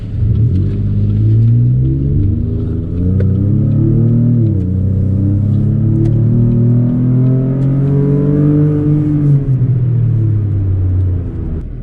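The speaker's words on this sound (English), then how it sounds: "I believe the truck has restarted. So let's unplug this and go for a ride and see what we think." A 2017-or-later Chevrolet Colorado/Canyon truck with a Trifecta tune drives along, its engine humming and rising in pitch through several shifts, with a steady low rumble heard from inside the cab.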